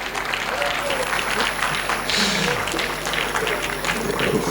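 An audience applauds a speaker being introduced at a youth development talk, dense steady clapping close and loud for a few seconds, with a voice briefly under it.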